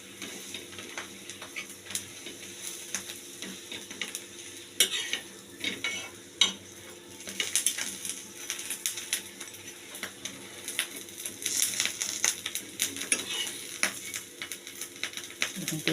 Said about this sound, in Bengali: অল্প অল্প তেল দিয়ে আমি ভেজে নিচ্ছি।